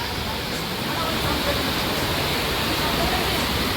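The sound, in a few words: heavy rain pouring down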